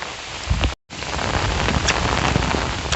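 Heavy rain pours down in a loud, continuous hiss with a brief dropout near the start, and a few low rumbles sit beneath the steady downpour.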